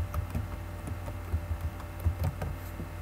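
Computer keys tapped in a short burst while a word is typed, a series of soft, closely spaced clicks over a low steady hum.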